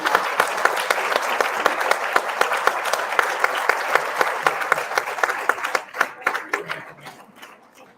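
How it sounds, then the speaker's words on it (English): Warm applause at a church retirement party fills the room with dense clapping, thinning over the last two seconds into a few individual claps before fading out. "Could I have a round of applause for those people?"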